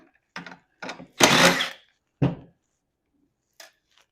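Screws coming out of a garage door opener rail, heard as a few short, close mechanical bursts, one longer than the rest, separated by silence.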